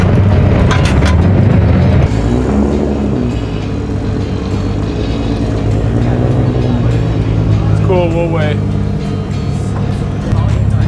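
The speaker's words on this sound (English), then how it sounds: "Goddamn drift cars." Clapped-out drift cars running in a loud, steady engine roar with shifting tones and a rising whine near the end, while people talk casually over the noise.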